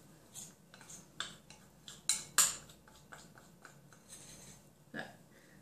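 A spoon is fetched from among metal cutlery, producing a series of scattered clinks and rattles, several sharper and louder, heard up close with no talking.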